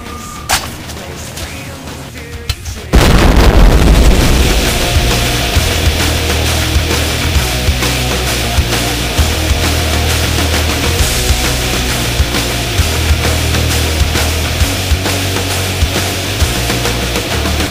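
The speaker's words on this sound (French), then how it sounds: "Ça c'est une grenade." A grenade goes off in a wartime action game set during an occupation, bursting as one loud blast that drops into a dense, sustained roar of gunfire and rumbling combat that carries on to the end.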